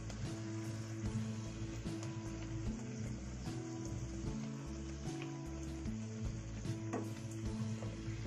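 Puri frying in hot oil for a green pea puri, a steady low bubbling sizzle running throughout with soft stirring and ladle scrapes, moderately quiet and close.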